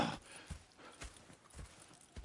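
Horses in the video game Red Dead Redemption 2, with steady rhythmic clip-clop hoofbeats at an even pace, faint and close, over a low ambient background with no talking.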